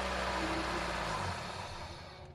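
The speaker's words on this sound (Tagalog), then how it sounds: "pag tinanggal natin ito, magbabago yung tunog ng makina" Engine of a ninth-generation Toyota Corolla Altis running close by after ignition coil socket work, a steady loud mechanical drone whose low tone shifts and drops partway through, then settles quieter.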